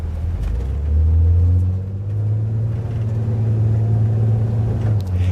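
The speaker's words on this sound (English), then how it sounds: "now let's let this car go through." A vintage Flxible Starliner bus's engine drones in a low, steady rumble, swelling slightly as it pulls and accelerates, heard from inside, continuous and moderately loud with no talking.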